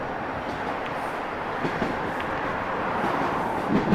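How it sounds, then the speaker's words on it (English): A Toronto subway train runs alongside at night, a steady, loud rolling rumble with faint clatter that swells slightly toward the end. "we're racing a subway"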